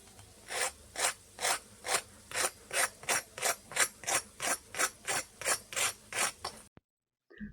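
Crispy fried masoor dal tikki is crunched in a steady run of about seventeen sharp, evenly spaced crunches, close and clear, then stops abruptly.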